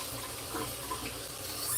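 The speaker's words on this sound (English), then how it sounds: "I'm going to be putting in the milk" Milk poured into a pot of thick cornmeal porridge, a steady soft watery pour running close by and without a break for under two seconds, with no talking.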